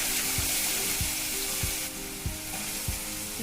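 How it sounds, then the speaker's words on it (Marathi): Garlic, mustard seeds and asafoetida fry in hot oil in a wok for a fenugreek leaf sabzi, giving a steady, close hiss of sizzling broken by regular soft scrapes and taps of stirring, with no talk. "बारीक केलेला लसूण लाल होईपर्यंत परतून घेऊया"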